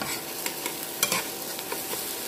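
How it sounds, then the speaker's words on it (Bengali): Mashed flat beans being fried (bhuna) in a pan, a soft continuous sizzle broken by repeated spatula scrapes and taps against the pan, fairly quiet with no talking. "আর অল্প একটু সময় আমরা এটাকে ভুনে নেব"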